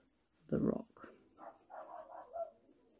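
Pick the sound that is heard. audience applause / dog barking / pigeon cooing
dog barking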